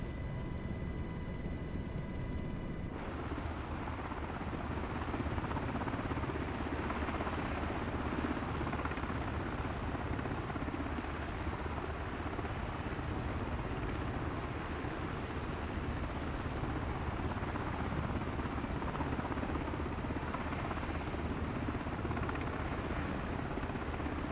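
A steady MH-60 helicopter rotor and turbine drone from Microsoft Flight Simulator 2024 runs continuously at even loudness, close and unbroken throughout, with no talking.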